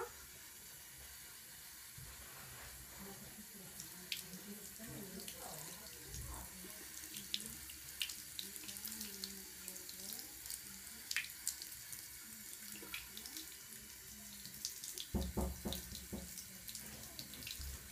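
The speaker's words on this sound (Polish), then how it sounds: "I paluszkami umyj szczoteczkę." Bathroom tap running steadily into a sink while a toothbrush is rinsed under the stream, a constant hissing flow with small clicks and splashes, and a voice speaking quietly over it.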